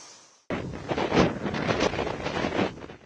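Strong coastal wind from Cyclone Ditwah in Tamil Nadu buffets the microphone with a sudden loud roar, gusting unevenly and continuously after a brief quieter opening, with no voices.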